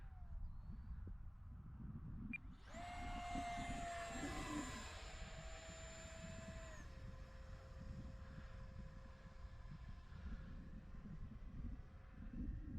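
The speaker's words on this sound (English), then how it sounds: "Oh, what a great flying little jet." An Arrows Viper RC model jet flies past on a cold day, its high turbine-like whine rising sharply, holding steady, then dropping in pitch as it moves away, over constant wind noise on the microphone.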